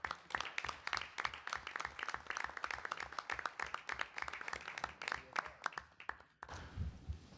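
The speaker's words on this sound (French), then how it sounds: "je pense qu'on pourrait applaudir tous ces..." Audience applause swells after a call to honour the whole body of work, dense rapid clapping from many hands that fills the room, then thins and breaks off near the end.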